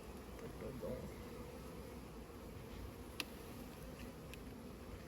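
Calm honeybees humming over an open beehive, a steady close drone broken by a brief tick or two of handling, with no speech.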